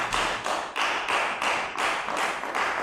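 A church congregation applauding, steady close clapping with a rhythmic pulse and regular swells, loud and without talk over it.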